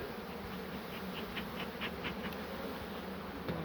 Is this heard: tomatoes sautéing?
no